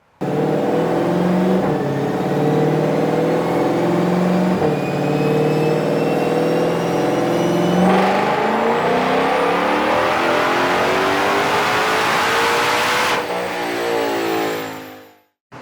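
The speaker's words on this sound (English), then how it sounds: "baseline this car on the dyno to see if this pipe has any gains on it." A stock 2020 Shelby GT500 runs on a dyno, its engine revving in a long continuous pull that climbs steadily in pitch for about thirteen seconds, loud and close, then cuts off abruptly and winds down.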